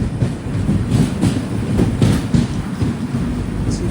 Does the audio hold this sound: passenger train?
yes